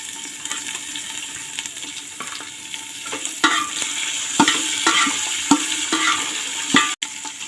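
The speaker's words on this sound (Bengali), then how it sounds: "এই জায়গায় অল্প নারকেল দিয়ে দেবো" Grated coconut for khichuri fries in a pan, a steady sizzle broken by repeated scraping stirs and clatters of a spoon against the metal, with no voices.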